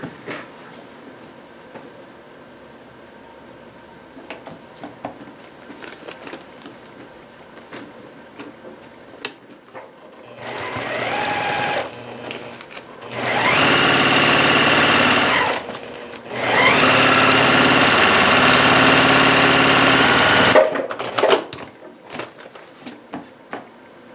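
A sewing machine stitches the border pieces onto a paper-pieced pineapple mug rug. It runs in three close, steady mechanical bursts, each lasting a few seconds, with soft handling clicks before and after.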